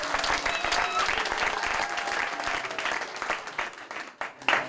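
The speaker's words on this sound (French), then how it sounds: "Applaudissez pour le plus." An audience at a donation ceremony in a main prison claps steadily, a dense sustained applause close by that thins and breaks into scattered claps toward the end.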